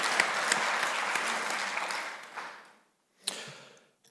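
A conference audience at the ITA Tunnelling Awards claps in a dense burst of applause that fades over about three seconds, followed by a brief sharp clap or knock and a quiet tail.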